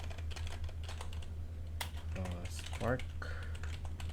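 Keystrokes on a computer keyboard as a command is typed into a system terminal, a run of quick clicks sitting under steady background hum while someone talks over them.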